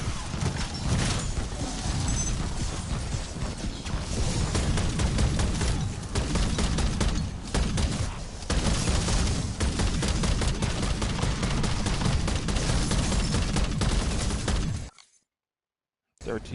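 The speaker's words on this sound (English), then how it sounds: "Come on, fireworks." Dense crackling bursts of fireworks in a Call of Duty Black Ops 7 Zombies match, loud and continuous for about fifteen seconds before cutting to a brief silence.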